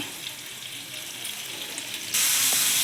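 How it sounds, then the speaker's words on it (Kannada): Tomatoes and onions frying in a pan for tomato chutney, a soft steady sizzle that jumps suddenly louder and brighter near the end, heard alone without talk. "ನೋಡಿ, ಈ ಥರ ಚೆನ್ನಾಗಿ ಫ್ರೈ ಆಗಬೇಕು"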